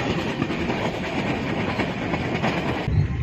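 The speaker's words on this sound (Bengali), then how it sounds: "ট্রেন এই মাত্র উদয়পুর স্টেশন আসছে।" Passenger train running on the Delhi to Jammu line as it approaches Udhampur station, a loud continuous rumble with rhythmic clickety-clack of wheels over rail joints, heard close from inside, briefly dipping near the end.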